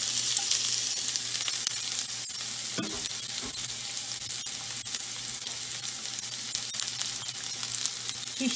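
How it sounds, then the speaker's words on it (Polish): Chopped onion frying in well-heated oil in a pan gives a steady, close, dense sizzle that carries evenly throughout, with a few brief stirring knocks and scrapes. "Wrzucamy naszą posiekaną cebulę."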